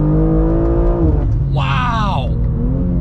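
A 720whp 2023 BMW M2 pulls hard in a rising engine tone, then its turbo lets out a sharp, hissing blow-off whoosh as the revs change, heard from inside the cabin with voices around it.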